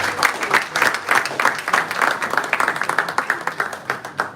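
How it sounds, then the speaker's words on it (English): An audience at an awards evening bursts into warm, dense applause, hands clapping in a lively, uneven patter that holds steady throughout. "Please give her a resounding round of applause"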